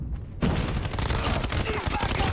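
Rapid automatic fire from an HVK assault rifle in a ranked multiplayer shooter game, a dense unbroken burst of loud shots that kicks in after a short quiet start and carries on to the end.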